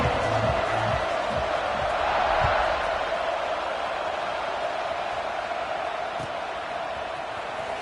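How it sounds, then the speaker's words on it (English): A football stadium crowd roars at kickoff, a broad sustained wall of cheering heard from a distance that swells slightly and then holds steady, with faint closer voices underneath. "this crowd now ready to get behind them"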